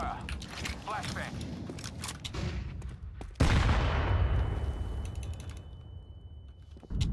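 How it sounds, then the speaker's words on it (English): Counter-Strike gunfire and a flashbang: clattering shots and mechanical clicks under a player talking, then a sudden loud burst that slowly fades into a thin ringing tone, ending with another abrupt hit. "Throwing flashbang. Laying down some fire."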